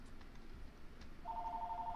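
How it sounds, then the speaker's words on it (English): A phone rings in the Pokémon Unbound ROM hack, a clean electronic two-tone beep beginning partway through and holding steady, moderately loud over quiet game background. "My phone is ringing."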